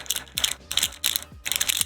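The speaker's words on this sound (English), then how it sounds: "Keys jangling." Metal keys jangling and clinking in four quick bursts, bright rattling shakes separated by short pauses, close and clear with no talking.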